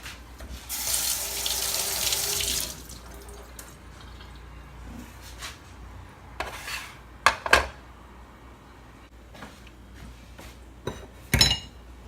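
Tap water runs into a sink as a popsicle mould is rinsed underneath, a steady hiss of flowing water followed by quieter splashing and a few clinks and knocks of plastic against the basin.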